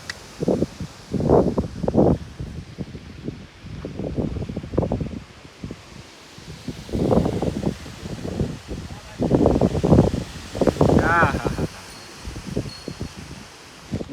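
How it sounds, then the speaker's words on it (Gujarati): Strong cold pre-storm wind with dust whirls in Gujarat, gusting in loud rough blasts against the microphone, rising and falling in waves for the whole stretch. "ડમરી એવી સડે ને ઠંડો પવન એવો આવે ભાઈ."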